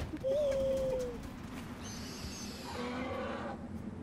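An owl companion in the video game Far Cry Primal calls with a clear, whistling hoot. A burst of harmonic, warbling cries follows against a low ambient game backdrop.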